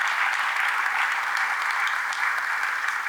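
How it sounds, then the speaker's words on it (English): Steady crowd applause at a county transfer station ribbon cutting ceremony honoring a work crew, dense and sustained for the full stretch without pauses or voices. "So I want you to give Greg Brooks and his crew a great round of applause."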